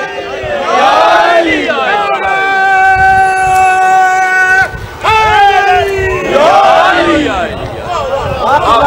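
A large congregation at a Shia majlis in an imambargah answers a chanted religious slogan, massed voices shouting in unison in loud swelling bursts, with a brief lull midway before the chant surges again.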